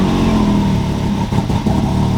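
A freshly serviced engine, being prepped for dune riding, runs right after starting, a loud, close, rough idle with dense low rumble and clattering mechanical texture, brief unsteady dips mid-way, no voices.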